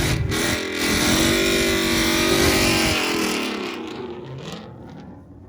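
Twin-turbo 2019 Mustang with Whipple supercharger on E85, MT82 manual gearbox, performance exhaust and a 100-shot of nitrous, accelerating down a South Florida drag strip: a loud roaring, whirring engine surge that swells, then fades into the distance.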